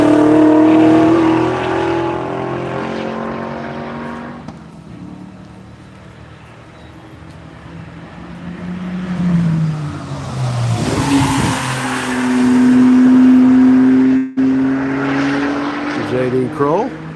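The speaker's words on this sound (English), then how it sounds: "Comes the On the Ledge Racing Camaro." A Chevrolet Camaro race car on a circuit during the One Lap of America event, engine swelling loud as it approaches and roars past, then fading, with a commentator talking over it.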